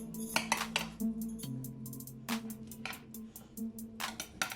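A spoon mixes chana chaat in a bowl, making bright, irregular clinks and scrapes that come in quick clusters, close by and fairly quiet.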